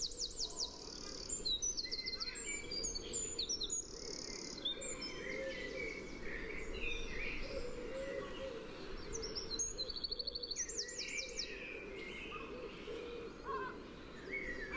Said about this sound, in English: herring gulls, distant wood pigeon there